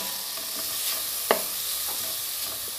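Zucchini sautéing in a pan with a little oil, a steady soft sizzle broken by one brief clink of a utensil.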